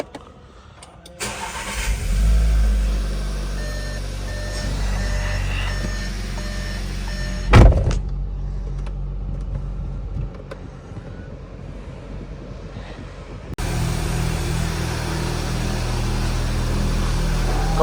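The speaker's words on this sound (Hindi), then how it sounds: "So this is the first cold start of the car." A VW Virtus GT cold-starts with a sharp crank and catches into a loud, steady idle that stays high and raised through the run, with a brief thud partway and a dip before the engine note swells again.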